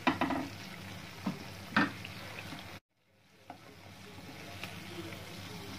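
Freshly fried kesari jalebis are dipped and stirred in warm sugar syrup in a pan, giving soft wet sloshing and faint sizzling with a few spoon clinks, close and quiet, broken by one brief silent gap.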